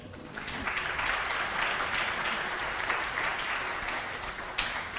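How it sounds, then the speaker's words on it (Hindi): Sustained clapping from a crowd fills the whole stretch, steady and fairly loud with no talking over it. "दोस्त नदीम मौलवी साहब यहाँ तशरीफ़ रखते हैं, इनके लिए भी बहुत सारी तालियां जी।"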